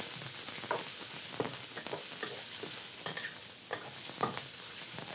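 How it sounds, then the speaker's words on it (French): Julienned carrot sizzles steadily while being stir-fried in a pan, with scattered clicks and scrapes of stirring over a continuous close frying hiss; no one speaks. "Ah, ça, c'est un beau son. Là. Le son de la cuisson."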